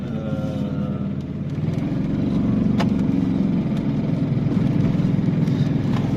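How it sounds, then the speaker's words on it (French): An Aixam GTI microcar engine starts and settles into a steady, somewhat low-revving run, the sound close and continuous with no talking. "Alors, on peut constater qu'elle est un peu en sous-régime, par contre, elle démarre bien."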